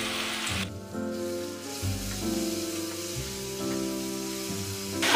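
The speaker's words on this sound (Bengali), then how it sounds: "এবার আমি ঘষে রাখা টমেটোটা দিয়ে নেব।" Grated tomato goes into frying onions for mutton kosha, and the pan gives a continuous close sizzle and crackle over a steady background hum.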